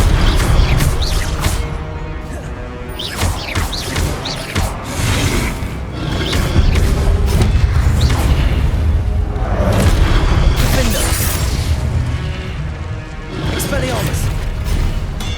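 Repeated booming blasts and crashing impacts from fire-blast spells in Hogwarts Legacy combat, loud and continuous throughout, layered with clanking mechanisms and a busy game soundtrack, with a voice speaking over the action.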